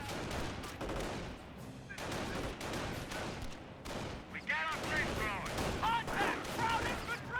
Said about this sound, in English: Our squad does fire another volley there.